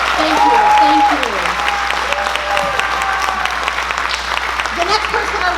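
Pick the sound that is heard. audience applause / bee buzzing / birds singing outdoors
audience applause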